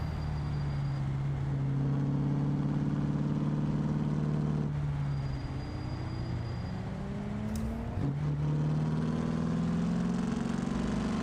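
Straight-piped old 350 engine in a pickup truck in BeamNG.drive, idling with a loud, steady low cackle that holds for several seconds, briefly drops off, then returns, with no talking over it.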